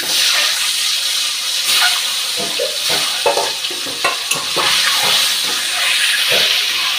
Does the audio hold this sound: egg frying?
yes